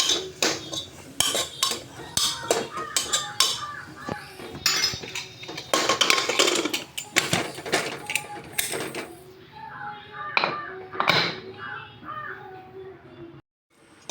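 A metal spoon stirs masala seasoned with garam masala and chilli powder in a metal pot for masala dosa, with repeated clinks and scraping under a voice speaking throughout, and a crow cawing in the background.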